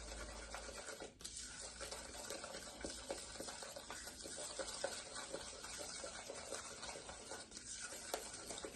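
A baking mixture stirred by hand in a bowl, a faint continuous scraping swish with rhythmic strokes and occasional knocks against the side.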